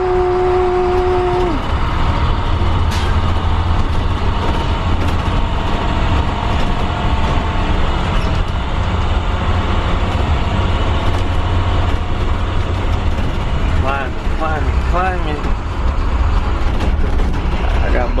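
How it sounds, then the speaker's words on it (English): A 2013 IC CE300 school bus driving off-road on rough back roads, its engine and rattling body forming a loud continuous rumble, with occasional voices and faint singing in the background. "Yeah, we off-roading with a school bus."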